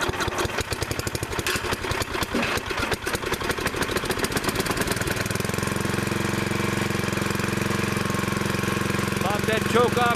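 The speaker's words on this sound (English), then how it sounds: "That's how it's running. Good sounding engine." A riding lawn mower engine cold-starts on a cold day, running steadily, first with a rough chugging rhythm, then settling into a smoother, constant idle hum close by.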